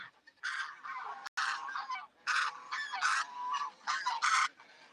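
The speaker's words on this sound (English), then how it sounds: "See how the other geese jump in to stop it?" Several geese honk loudly and repeatedly in close bursts while others rush in to break up a goose fight in a yard, calls overlapping in busy clusters with brief gaps between.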